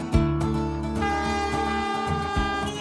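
Train in the Ecuadorian Andes: a loud, steady, sustained rumble of the moving train with tonal horn-like hum, close and continuous for a few seconds, no talking.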